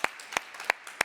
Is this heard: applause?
yes